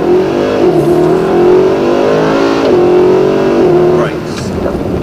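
A car accelerates hard at full throttle, the engine note climbing loud and close, dipping briefly at a gear change before rising again, with people talking over it.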